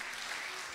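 Church congregation clapping in praise during a Portuguese-language worship service, a brief dense burst of many hands applauding together at steady loudness.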